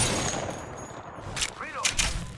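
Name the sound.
bots shooting guns at the player in a video game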